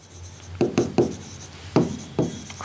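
Marker or chalk strokes on a classroom board during an accounts lesson, five short scratchy bursts in a quick uneven rhythm, close and fairly crisp with a quiet room behind.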